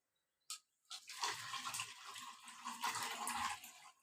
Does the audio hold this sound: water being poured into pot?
yes